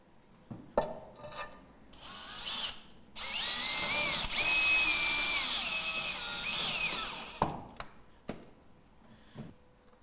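A power drill drives fasteners to secure roof window flashing onto a profile tile roof, giving a few short bursts and then one sustained whirring run of several seconds, close and fairly loud with scraping and knocks between.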